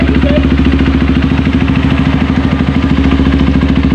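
A Honda CRF 150L motorcycle idles close by after a hard start, its engine thumping in a loud, fast, regular beat with a slightly rough, sputtering edge, and no talk.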